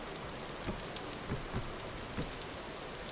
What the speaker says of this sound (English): The rain is so wet, dude.